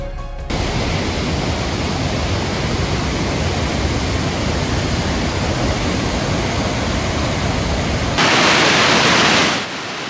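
Roaring Victoria Falls waterfall, a dense, steady rush of thundering water heard up close and loud throughout, with a brief burst of harsher hiss near the end.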